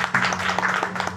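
Audience clapping at a live music program, a short dense burst of applause from a crowd that carries on for just over a second.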